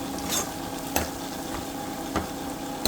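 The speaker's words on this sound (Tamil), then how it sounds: "ஸோ அதனால் எல்லா பக்கமும் கிண்டி விட்டுருக்காங்க." A fish curry cooking in a pan is stirred with a few scraping strokes over a steady low simmer and sizzle, moderately close, with no one talking.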